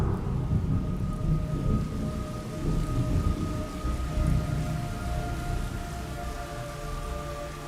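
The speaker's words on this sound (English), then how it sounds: "It's raining blood." Rain and thunder in the video game Metal Gear Solid: a dense roar of rain with low rumbling thunder swelling and fading, plus a faint sustained tone running beneath, no speech.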